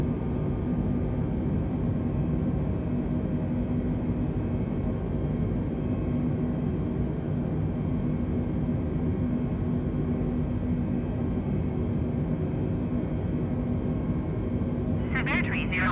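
An A320 airliner climbing after takeoff in the video game Flight Simulator 2020: a steady, droning engine rumble and roar continue unbroken throughout, with a short chirp near the end.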